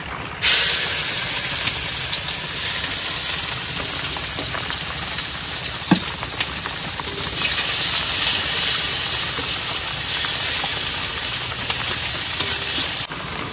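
Chopped onion and bay leaf hit hot oil in a pan just used for frying fish, cooked outdoors by a Sundarbans river in the rain, giving a loud, continuous hissing sizzle that runs unbroken with no talking.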